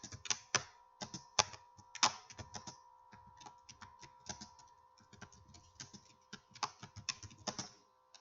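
A computer keyboard clicks as text is typed into a MySQL hash demo, irregular bursts of close, crisp keystrokes with short pauses between words.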